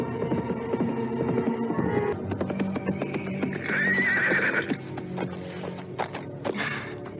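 Horses in an Indonesian audio drama clip-clop steadily on hard ground with a busy rhythm of hoofbeats, while one horse gives a clear, loud whinny midway and another shorter neigh follows near the end.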